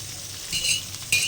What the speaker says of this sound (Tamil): இந்த 2 பெரிய வெங்காயத்தை போட்டு நல்லா ஒரு வணக்கணும்